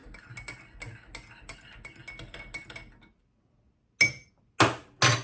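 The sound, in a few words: spoon stirring Somali qaxwo coffee with milk in a pot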